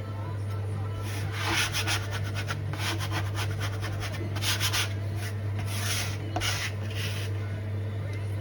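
Steady rhythmic scraping and rubbing of gnocchi dough off a chopping board, repeated strokes over a constant low hum, with no talking.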